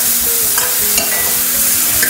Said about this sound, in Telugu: ఇవన్నీ ఒకసారి ఇలా బాగా మిక్స్ చేసేసుకొని